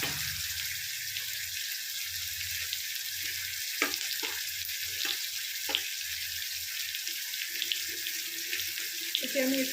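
Water runs steadily from a kitchen tap while a prawn curry is being cooked, a continuous close hiss with a few small clinks and no talk.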